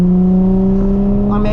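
Nissan 350z engine droning loud and steady at high revs, heard close from inside the car, with a brief rising note near the end.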